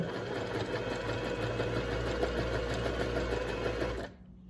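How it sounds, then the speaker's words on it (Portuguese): A Janome S-2008P sewing machine stitches at stitch length 4 with a steady, fast, close mechanical whir and rapid needle clatter, running continuously before stopping abruptly near the end. "Fiz o comprimento do ponto 2, agora eu vou passar para o comprimento 3. E agora para o comprimento 4."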